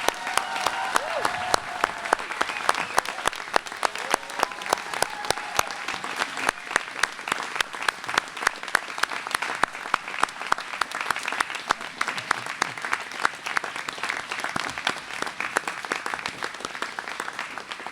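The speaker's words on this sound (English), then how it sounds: "I hope we will give a rounding applause to all of the graduates and faculty and staff" Sustained applause fills a graduation ceremony hall, a crowd clapping steadily and moderately loud for the full stretch without a break.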